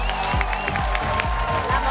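Studio audience applause at a live comedy show, a brief, steady wash of clapping with deep rhythmic thumps of music underneath.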